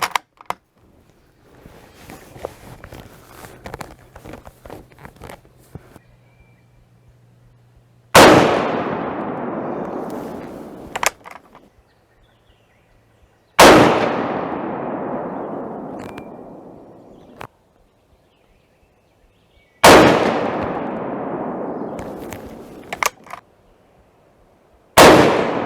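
M1903 rifle firing four loud, sharp gunshots spaced several seconds apart at a shooting range, each with a ringing, decaying echo, with faint handling clicks between shots and no talk.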